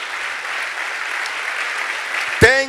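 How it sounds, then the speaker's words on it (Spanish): Steady applause from a church congregation, a dense even wash of clapping that fills the whole stretch and ends with a short voiced sound. "Dale aplauso al Señor"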